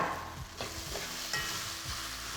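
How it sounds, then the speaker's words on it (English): Pre-boiled pigtail drops into a hot cooking pot for bhagi rice, stirred with soft sizzling and scraping at a low, close level, with a few light thuds as the pieces settle and no talking. "I have my pre-boiled pigtail here and I'm just gonna add it to the pot"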